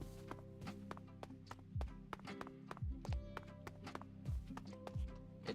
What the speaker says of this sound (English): I added like a mod that makes it so you can hear the footsteps.